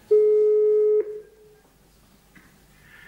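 A phone call on a handsfree speaker in a garage business sketch begins with a single loud, steady electronic tone lasting about a second, followed by quieter line hiss and faint electronic chirps as the connection goes through.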